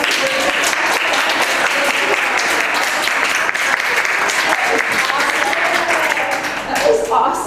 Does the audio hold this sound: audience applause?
yes